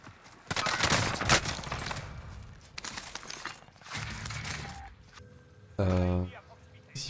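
Rapid automatic gunfire from a first-person shooter game playing the Kilo rifle, loud bursts across most of the stretch with a mechanical reload near the end, while players talk over it.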